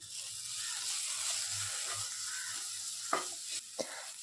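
Prawn masala with chilli powder, pepper and crushed fennel sautéing in a pan: a soft, steady sizzle with a few brief scrapes of a spoon stirring, no voices.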